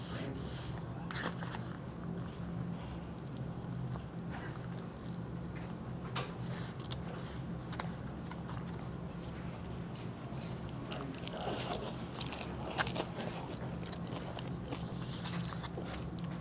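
Someone bites and chews crunchy nachos topped with beef, cheese, beans and salsa, close-up crunching and munching recurring in uneven bursts over a quiet room tone.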